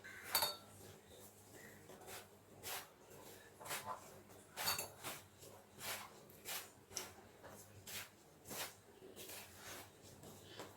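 Semolina and sugar stirred with a spoon in a bowl, a series of quiet, evenly spaced scraping clinks repeating roughly every half second, close and alone.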